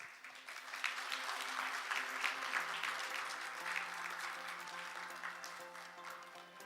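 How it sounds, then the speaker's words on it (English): Audience applause fills a conference hall as session chairs and speakers are welcomed at a global economy and financial stability event, a steady dense wash of clapping that holds throughout at moderate level, tapering slightly near the end. "please welcome them with a big round of applause"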